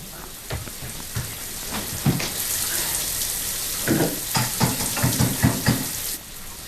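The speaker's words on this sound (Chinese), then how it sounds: "我那水龙头有点坏了啊。" A broken tap lets water run in a soft steady stream, while a series of close knocks and clatters rise over it in the later part.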